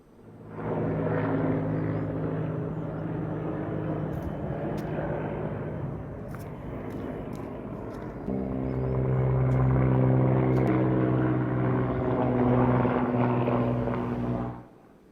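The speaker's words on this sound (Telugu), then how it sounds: "సైన్యం M117 చాపర్ నుంచి హెలికాప్టర్ జారిపడింది." A loud, steady drone of an army M117 helicopter's engine and rotor at Kedarnath, continuous throughout and growing slightly heavier midway, with no talking.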